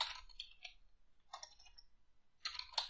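Quiet clusters of keyboard keystrokes come in short bursts of soft clicks with pauses between them, close and faint.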